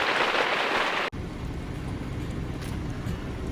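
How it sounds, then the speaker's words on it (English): Rain falling steadily on an Oztent Eyre E-2 tent at night, a close, dense hiss that cuts abruptly after about a second to a lower, rumbling patter. No one speaks. "Listening to it rain."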